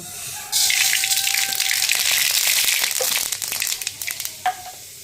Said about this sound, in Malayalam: ഇനി നമുക്ക് കടുക് ഇട്ടാം കേട്ടോ